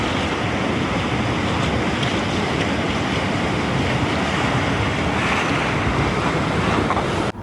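Packraft on the Huon River in Tasmania, heard as steady broadband rushing of moving water and wind buffeting the microphone, continuous and loud for the whole stretch with no clear separate paddle strokes.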